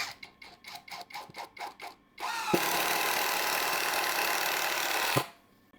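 A MIYOTA impact wrench starts with a quick series of short trigger bursts, then runs continuously at high variable speed for about three seconds with a loud, close, buzzing whir before cutting off abruptly.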